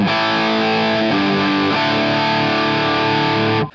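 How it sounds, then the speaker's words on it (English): A Charvel electric guitar played through a JHS Andy Timmons Plus overdrive pedal into a clean amp channel rings out loud sustained distorted chords, changing twice before being cut off sharply near the end. "I'm running it through a JHS Andy Timmons Plus pedal right into my Sewer PT100 clean channel"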